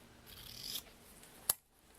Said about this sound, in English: So I'm just going to cut off a piece of ribbon.